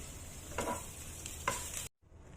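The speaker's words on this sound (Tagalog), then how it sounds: "so ilagay ko na ang garlic." Garlic goes into hot cooking oil in a pan and sizzles steadily at close range. Two soft stirring scrapes sound over the frying before it cuts off abruptly.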